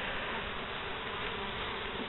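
Honey bees buzz steadily around homemade hives on a dry limestone plateau, a dense, continuous drone of many insects close by with no voices.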